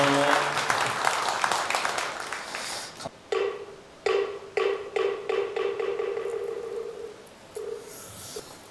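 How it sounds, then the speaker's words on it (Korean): After a boys' temple choir performance at a Buddhist ceremony, audience applause fills the first three seconds, then gives way to a series of sharp, repeated knocks or taps with short gaps between them. "다시 한번 뜨거운 박수 한번 보내주시면 고맙겠습니다"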